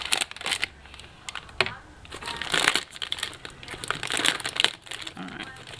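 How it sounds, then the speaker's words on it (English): Craft scissors cut open a crinkly snack package with a run of sharp snips and rustling crackles, close by and uneven. Faint voice sounds come through between the cuts. "So I'm just going to cut it with my craft scissors."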